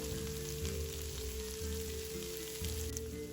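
Chopped onions frying in a pan for chicken fried rice, a steady close sizzle and crackle with a low hum beneath, continuous throughout.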